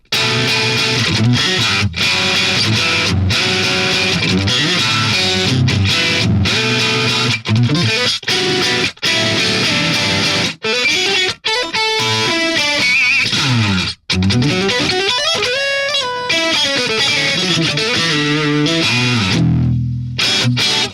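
Heavily distorted, processed hyperpop guitar tone from an amp plugin plays a loud dense riff with choppy stops and glitchy stutters, ending in a low rumble.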